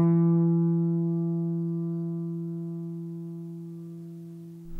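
A single plucked guitar note rings out clearly and alone, its tone steady and slowly fading over a few seconds.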